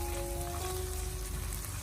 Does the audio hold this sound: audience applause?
no